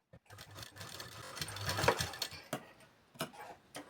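Sewing machine running a straight line of stitching along a folded edge of blouse fabric, a steady mechanical whirr with clicks and a few short bursts and pauses, close and moderately loud with no talking.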